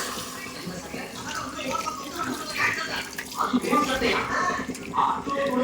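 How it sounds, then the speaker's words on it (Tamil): Tamarind extract poured into a pan while cooking pudina chicken, a steady liquid splash and trickle of moderate loudness that swells and fades over several seconds, with a voice heard in the background. "புளிக்கரைசலை ஊற்ற வேண்டும்."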